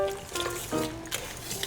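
Milk pours into donut batter in a mixing bowl, a short close trickle with soft liquid splashes, fairly quiet and alone.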